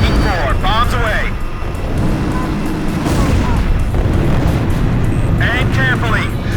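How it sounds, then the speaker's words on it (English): Bombs dropped by a jet in Ace Combat 5 rumble across an enemy field HQ as a heavy, sustained roar of explosions beneath engine drone, with radio chatter from pilots over the top. "Okay, on final for bomb attack. Everybody ready? This is Viking 4. Bombs away."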